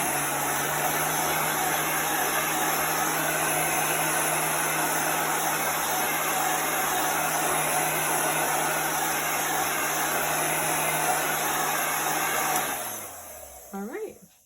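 A heat gun or hair dryer drying chalk paste on a gingerbread tree cutout roars as a steady, loud, close blowing hiss, then switches off near the end and winds down.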